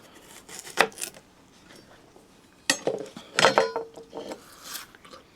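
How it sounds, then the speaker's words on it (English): Knife slicing through a crisp Asian pear, giving a few sharp crunchy cuts and scrapes in separate bursts with quiet pauses between, close and fairly loud. "So, slice off a little more."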